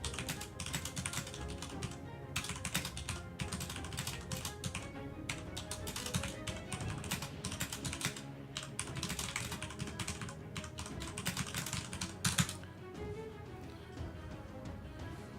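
Rapid typing on a computer keyboard into in-game chat while playing Crowfall: a continuous run of quick, close key taps with brief pauses and no talking.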